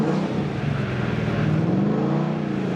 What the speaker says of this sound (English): So we'll kick it into drift again.